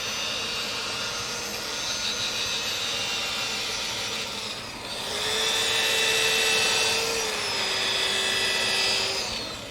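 Fine 600-grit sanding of a turned wooden plate gives a steady, loud, hissing whir from the spinning lathe, with a slight shift in pitch partway through and no talk.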